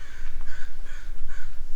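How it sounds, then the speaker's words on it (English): A crow caws loudly in a state park, giving about four harsh, evenly spaced calls over a steady low background rumble. "I'm at Gerald Cove State Park again with a really loud crow."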